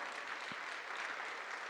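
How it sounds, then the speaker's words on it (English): An audience at a public forum on the arts breaks into applause for a guest, giving a steady, even patter of clapping that sounds fairly soft and distant and is heard alone without speech. "Eloise, let's give her a round of applause."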